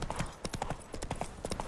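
Roach, the horse in The Witcher 3, trots along with a steady clip-clop of hooves, close and fairly loud, over a quiet game background.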